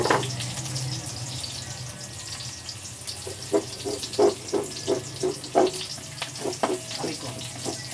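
Onions fry in hot oil in a pan, a steady close sizzle broken by a run of sharp splattering pops, with no talking.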